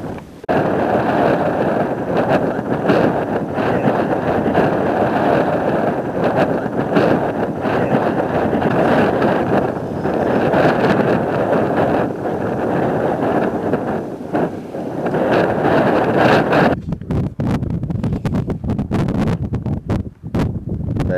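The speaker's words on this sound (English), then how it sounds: "the wind is quite strong at the moment, so it's blowing a tent around" Strong wind buffeting a tent at a camp in June, a loud continuous roar with gusting surges and flapping fabric, easing and turning more broken near the end.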